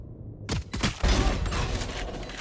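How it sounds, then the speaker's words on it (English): Rapid gunfire in Valorant, a burst of several shots near the start followed by a dense crackle of shooting and game effects that keeps going to the end. "Nice first shots going down towards stage."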